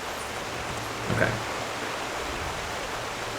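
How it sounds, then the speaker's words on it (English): Loud waterfall in Final Fantasy XIV, a constant broadband roar of rushing water filling the scene, with a brief louder bump partway through. "Let's get away from the very loud waterfall."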